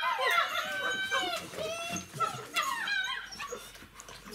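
Puppies about 37 days old whimper and yelp on a farm, with high, wavering cries overlapping almost continuously. The sounds are near but fairly quiet, with a faint low background underneath.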